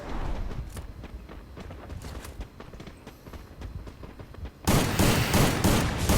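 Rapid bursts of PUBG gunfire crackle through the scene, the shots turning sharply louder and denser in the final stretch, with no talk over them.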